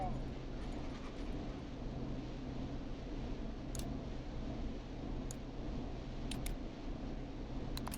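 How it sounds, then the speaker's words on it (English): A neighbor's dog barks a few times in the video game Killer Frequency, short, distant yaps over a steady low night-time drone. "Is that a neighbor's dog?"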